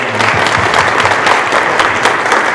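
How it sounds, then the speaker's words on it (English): Loud, dense audience applause fills the room after a training talk, a continuous even clatter of many hands close by with no speech over it. "before we give her a round of applause?"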